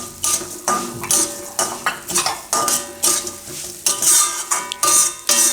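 Fada wheat roasted with cashews and almonds in a pan over medium heat for Gujarati fada lapsi. A spoon stirs and scrapes steadily in close, rhythmic strokes over a soft sizzle, with no talk.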